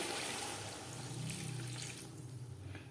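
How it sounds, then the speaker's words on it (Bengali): Water pours into a simmering fish curry of katla and flat beans with tomato and cumin, a steady close trickle and splash with no one talking. "এই পর্যায়ে দিয়ে দেব জল।"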